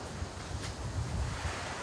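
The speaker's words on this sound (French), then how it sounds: "Le son, là, que vous entendez peut-être derrière moi, le son des vagues" Mediterranean sea waves wash onto the shore behind a seaside restaurant, a soft, steady surf hiss with low rumbling swells, faint and alone with light wind noise.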